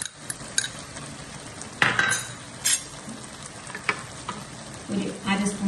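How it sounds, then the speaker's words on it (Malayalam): Beef fry with onion, ginger and garlic being stirred in a pan, a steady sizzle broken by several scraping clinks of a spoon against metal, close and fairly loud, with no talk. "ഒരു 1/2 സ്പൂൺ ഗരം മസാലയും കൂടി നമുക്ക് ഇതിനകത്ത് നന്നായിട്ടൊന്ന് ഇളക്കി കൊടുക്കാം"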